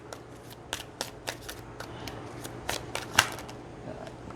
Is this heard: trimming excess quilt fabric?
no